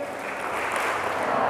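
A seminar audience at a university in Surakarta claps together on cue, a short, dense burst of many hands that stays steady and builds slightly, with some voices mixed in.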